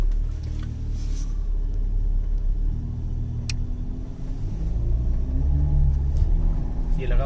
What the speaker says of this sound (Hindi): तो अभी लेते हैं इस कार की एक छोटी सी टेस्ट ड्राइव।